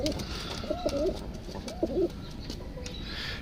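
Pigeons cooing near at hand, a few soft rolling coos over about two seconds amid faint background noise.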